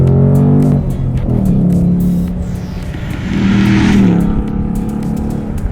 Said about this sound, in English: V8 engine stuck between the front fenders of a Ford Mustang.